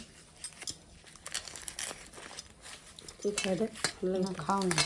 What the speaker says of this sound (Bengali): এবারে আরো কয়টা ভাজছি এখানে দেখো